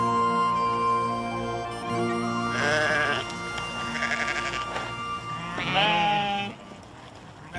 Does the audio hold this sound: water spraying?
no